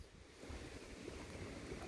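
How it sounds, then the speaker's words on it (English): Wind blows outdoors during a night walk, a faint, continuous rushing that buffets the microphone. "Now it's windy."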